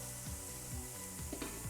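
Onions fry in oil with turmeric and ginger garlic paste for a flat bean curry, a soft sizzle under repeated scraping stir strokes, close by and fairly quiet.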